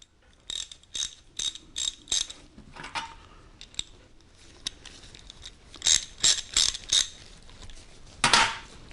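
Rapid bursts of a Craftsman 3/8-inch drive socket wrench ratchet clicking, several quick series of sharp metallic ticks close up, separated by brief pauses and handling noise.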